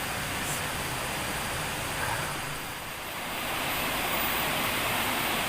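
Curug Lontar waterfall in Leuwiliang, Bogor, rushing as a steady, loud broadband roar of falling water that dips briefly midway and holds constant throughout, with no voices.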